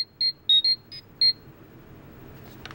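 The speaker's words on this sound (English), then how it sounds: "The legendary communicator call from Alpha or Zordon." Power Rangers Legacy Power Morpher toy giving its communicator call: five quick, bright electronic beeps in an uneven rhythm, loud and close, then near silence.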